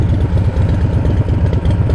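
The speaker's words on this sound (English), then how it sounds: "So I will do a before and after audio test on what the exhaust note is" A Harley-Davidson Breakout with a 131 engine rumbles at idle, its deep, loping exhaust note pulsing steadily and loud up close.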